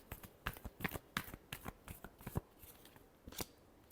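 Tarot cards are shuffled by hand close up, a quiet series of crisp riffling slaps and flicks in an uneven rhythm, with no talk over them.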